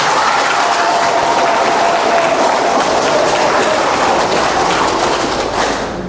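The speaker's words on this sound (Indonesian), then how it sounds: "Kita memberikan aplaus" A crowd at a welcoming ceremony claps steadily and loudly, a dense, sustained round of applause that fades slightly at the end.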